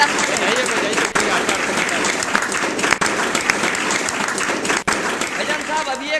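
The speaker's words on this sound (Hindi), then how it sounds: "अगर ताली बजानी है तो जोरदार बजाइए।" Audience at a comedy poetry show in Kanpur breaks into loud, sustained applause, dense clapping throughout with a few brief dips.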